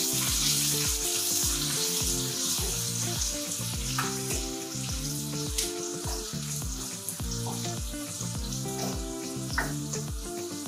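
Chopped onion and curry leaves fry steadily in hot oil, a dense continuous sizzle close up with occasional faint stirring clicks, no talking.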